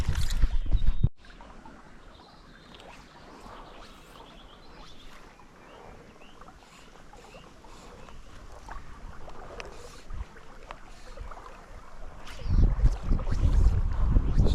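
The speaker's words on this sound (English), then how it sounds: "Sudden wind." Sudden gusts of wind blow across a river, rumbling as low broadband wind noise buffeting the microphone, building stronger and louder toward the end with no talk.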